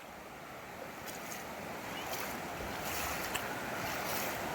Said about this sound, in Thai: นี่คือน้ำตกห้วยจันทร์อำเภอขุนหาร จังหวัดศรีสะเกดครับ